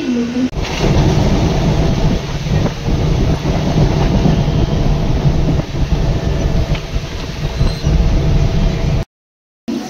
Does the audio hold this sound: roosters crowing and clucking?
no